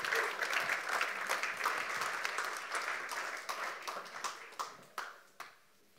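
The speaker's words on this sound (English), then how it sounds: "Oh man, let's give her another round of applause." Church audience applauding, a dense wash of many hands clapping that stays strong for several seconds, then thins into scattered individual claps and fades out.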